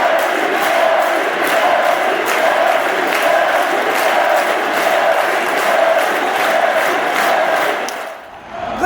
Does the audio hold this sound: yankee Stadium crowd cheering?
yes